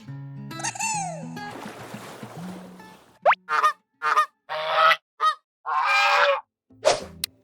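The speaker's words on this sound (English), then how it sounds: "The correct answer is goose." A goose gives a series of loud, nasal honks, about six or seven short bursts in an uneven rhythm, close and alone, preceded by a brief, unrelated jingle and some noise.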